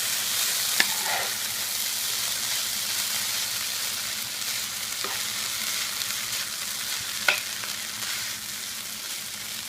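Potatoes fry with a steady, close sizzle in a pan, the hiss running continuously while a few soft knocks mark them being turned over.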